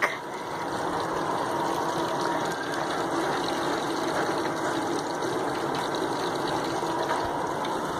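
Kitchen tap water runs during a drain leak test, a steady, continuous rush and hiss that lasts the whole time, close and fairly loud, with no talking.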